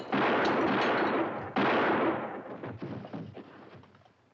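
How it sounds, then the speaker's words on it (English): Heavy gunfire from a Wyatt Earp western film scene, with two loud sustained volleys of shots followed by scattered, fading bursts and reverberant rumble. "employing questionable tactics to gun down members of the Clanton gang"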